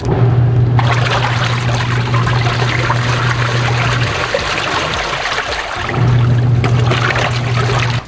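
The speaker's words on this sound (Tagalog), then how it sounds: "pinawirl natin yung water and yung fabcon" Water swirling inside an LG Roller Jet spinning washing machine with fabric conditioner mixed in, a steady loud churning flow with a low motor hum that drops away midway, then returns.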